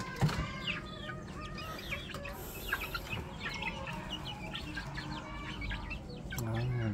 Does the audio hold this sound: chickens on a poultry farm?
yes